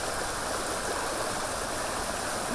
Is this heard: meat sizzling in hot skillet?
no